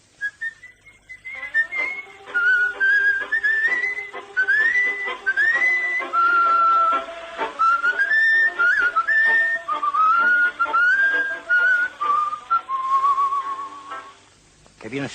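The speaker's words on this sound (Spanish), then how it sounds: "Que bien silba" A person whistles a lively, wandering tune close by, with clear, bright, sliding notes in quick phrases lasting about thirteen seconds and pausing only briefly.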